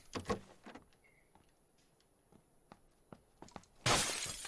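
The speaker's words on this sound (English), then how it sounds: "That was me breaking glass." Glass shattering indoors, a sharp crash with scattering shards at the very start, then scattered faint clinks and small knocks before a loud final crash of breaking glass near the end.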